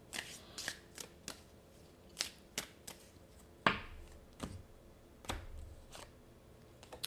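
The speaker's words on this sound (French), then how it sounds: "je vais aller chercher plus qu'une carte" Tarot cards are shuffled and drawn, producing soft, close riffles, snaps and flicks at an irregular rhythm, quiet and with no voices.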